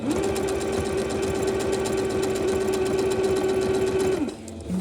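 A sewing machine runs steadily while stitching a reversible tote bag. It holds one close, even whir for about four seconds, then stops abruptly.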